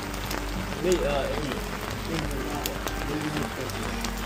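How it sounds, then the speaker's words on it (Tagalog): Steady rain pattering on surfaces outdoors in Kathmandu, a constant close hiss of drops while people talk over it. "Rain."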